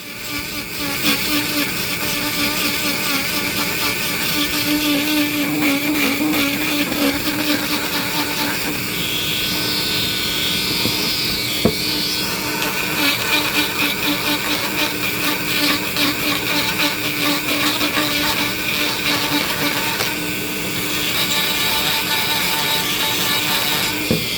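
A Dremel rotary tool carves wood in a continuous high-pitched whine that holds steady for a long stretch, its tone shifting slightly as the bit bears into the wood.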